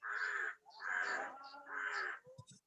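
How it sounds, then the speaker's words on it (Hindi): Crows caw outdoors at a village farm house, three long harsh calls in a slow series, fairly loud and close, followed by a few short clicks and knocks at the end. "कौवे की आवाज आ रही है आपको?"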